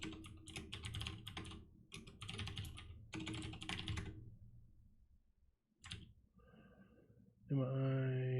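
Quick bursts of clattering keystrokes on a computer keyboard come in short runs with pauses, close and fairly loud, ending with a brief tonal electronic sound.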